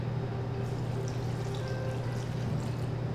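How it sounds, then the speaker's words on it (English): Vegan chicken broth pours into a cooking pot in a steady, continuous stream, with no talking and a low background hum. "So I have some actual like vegan chicken broth here that we're gonna pour in."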